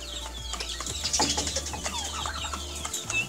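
Turken naked-neck chickens clucking close by, a busy scatter of short clucks and chirps over a low steady background hum.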